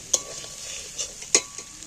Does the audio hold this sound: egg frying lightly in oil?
yes